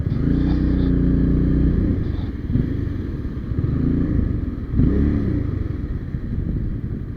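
Honda CBR250RR motorcycle engine idling and revving under throttle, a close, steady rumble that rises and falls with several blips of throttle, with no voices.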